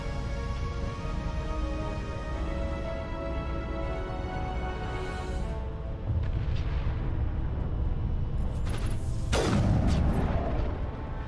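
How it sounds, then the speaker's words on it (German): Cannon fire in the Mass Effect video game, deep rumbling blasts over a dense, continuous battle din with a sharper burst near the end; no talking. "Liebe Kanonen, könnt ihr dann vielleicht auch mal auf das ganz große hier schießen?"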